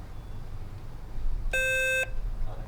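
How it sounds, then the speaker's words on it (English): In a high school quiz bowl match, an electronic buzzer marks the end of a round with one sharp, steady half-second tone that stands out clearly over a quiet room murmur. "we heard the buzz right now that points out that it is the end of the round"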